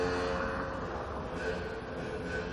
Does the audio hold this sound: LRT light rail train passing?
yes